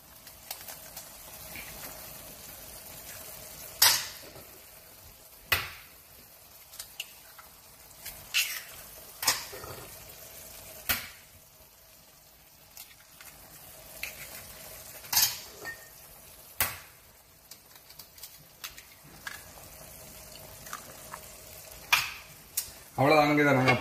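Eggs beaten and poured into a simmering Sri Lankan maasi egg curry, with sharp clinks of utensil against a bowl or pot at irregular intervals over a quiet background hiss.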